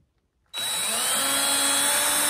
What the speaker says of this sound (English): Now I'm going to drill this one out